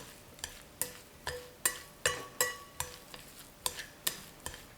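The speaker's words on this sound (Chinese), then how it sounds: "搅拌均匀。" Pie filling of chopped cooled egg, oyster sauce, Sichuan pepper powder, seasoning oil and soy sauce is stirred in a bowl, giving a steady series of about a dozen soft scraping strokes close by with no talk.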